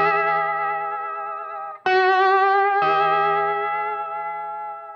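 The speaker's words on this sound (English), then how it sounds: "You don't want this kind of vibrato." Slide guitar sustaining notes with a wobbly, uneven vibrato, the pitch wavering irregularly; a held note, then a sliding re-attack and another wavering note, close and clear with a slightly effected tone, no talking.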